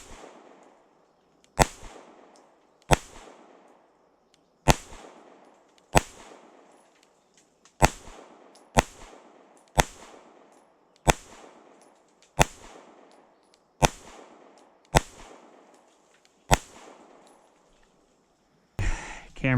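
Shots from a Fusion Firearms XF Pro pistol fired outdoors at a target about eight yards away: a dozen sharp, loud single reports spaced about a second or more apart, each with a short decaying echo.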